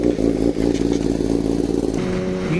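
Kawasaki ZX-10R sport bike exhaust running close and loud, a steady throaty drone with a slight rise in pitch near the end, no voices.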